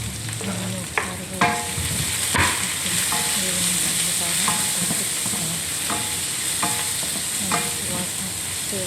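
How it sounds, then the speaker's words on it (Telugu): Curry leaves and green chillies fry in a pan for cabbage fry, a steady loud sizzle with occasional sharp scrapes and taps of a stirring spoon. "కొంచెం బాగా వేయించుకోవాలి. కరివేపాకు, పచ్చిమిర్చి అన్నీ ఒకసారి"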